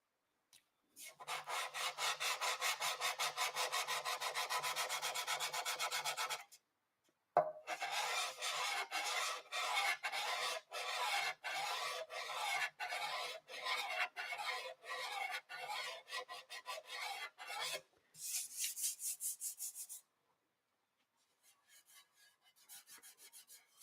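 Sandpaper scrubs over a motorcycle tank surface in long steady passes, then in quick repeated back-and-forth strokes, close and clear, with pauses between bursts and no talking.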